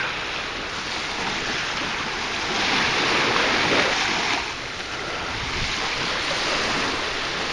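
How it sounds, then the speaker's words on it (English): Ocean waves rolling onto a bay shore at high tide, a broad steady wash of surf with one swell building louder in the middle, mixed with wind buffeting the microphone. "But at least the waves are better."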